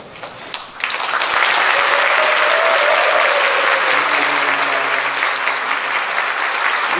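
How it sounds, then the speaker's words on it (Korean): A church congregation stands and applauds, with loud, sustained, dense clapping that starts abruptly after a brief moment of quiet and continues steadily, with a voice heard faintly beneath it. "일어나시고 박수 좀 주세요"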